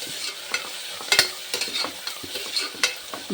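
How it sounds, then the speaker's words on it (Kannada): Mint, fenugreek and coriander greens fry in ghee for ghee rice with chicken kurma, with a continuous sizzle and quick, irregular stirring scrapes close by. "ಪುದೀನ ಮೆಂತ್ಯ ಕೊತ್ತಂಬರಿ ಸೊಪ್ಪು ಇದನ್ನು ಫ್ರೈ ಮಾಡಬೇಕು"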